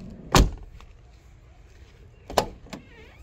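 A Jeep Cherokee XJ door swings freely on its hinges, two sharp close thuds about two seconds apart with a lighter knock after the second, over quiet background.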